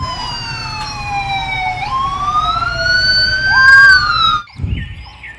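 A toy Dubai police patrol car plays a loud electronic siren that wails and sweeps up and down in pitch for about four seconds before cutting off, followed by a brief clatter.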